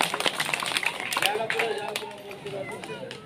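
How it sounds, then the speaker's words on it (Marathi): Villagers clap to welcome a prize donor, with scattered, uneven applause from a small crowd under a loud speaking voice and some background chatter. "त्यांचं जोरदार टाळ्या वाजवून स्वागत करायचं आहे"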